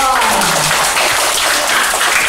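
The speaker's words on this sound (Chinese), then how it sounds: "再来掌声给他妈妈一下哇" An audience gives loud, dense applause, a steady broadband roar of clapping after a brief voice at the start.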